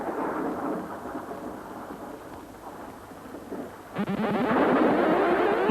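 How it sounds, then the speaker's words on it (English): Loud thunder rumbles through a storm, building to a sharp, heavier crash near the end, with a steady wash of rain underneath and no voices. "Thunder crashed, the lightning flashed"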